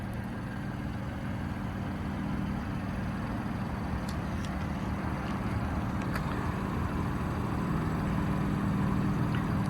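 A 2017 BMW M3 Competition engine runs at a steady idle, a constant low rumble with a few faint clicks on top and no talking.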